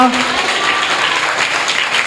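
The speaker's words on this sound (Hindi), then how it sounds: "ताली बजा सकते हैं" Church congregation clapping during a Hindi sermon, a loud, steady wash of applause filling the room, with a brief voice at the very start.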